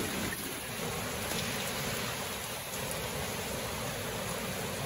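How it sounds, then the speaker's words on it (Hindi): Steady rain pours down continuously, a dense even hiss of drops falling on surfaces with no voices. "तो बारिश का भी मौसम है"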